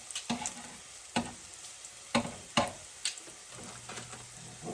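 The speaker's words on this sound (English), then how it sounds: "Love that olive oil moving around in this pan." Olive oil sizzles in a frying pan under a soft steady hiss, broken by several sharp metallic taps and scrapes of tongs at irregular intervals, close and moderately quiet.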